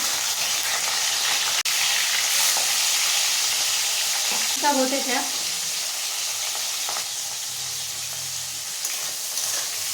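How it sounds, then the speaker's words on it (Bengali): Rohu fish pieces fry in hot oil with a loud, continuous sizzle close by, broken by a few clatters and a brief burst of talk midway. "তেল গরম হয়ে গেছে, মাছগুলো দিয়ে দেবো।"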